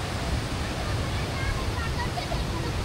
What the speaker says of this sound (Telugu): ఇదే అనమాట వాటర్ ఫాల్స్